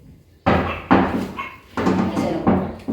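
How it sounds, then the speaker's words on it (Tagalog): Workers installing a door in a newly finished house make a series of loud knocks and thumps, several sharp hits in an uneven rhythm close by. "Ayan po yung pinto, kinakabit na po nila."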